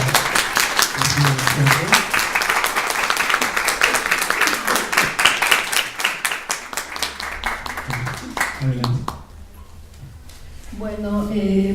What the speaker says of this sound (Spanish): Entonces les pido un fuerte aplauso aquí a la doctora.